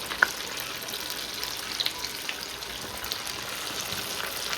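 Baati dough balls fry in hot oil over a wood-fired chulha, giving a steady, close bubbling sizzle with faint crackles throughout and no talking.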